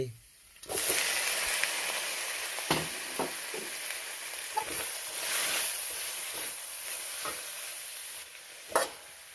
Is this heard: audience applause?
no